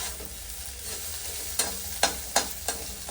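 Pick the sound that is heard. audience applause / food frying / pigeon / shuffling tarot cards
food frying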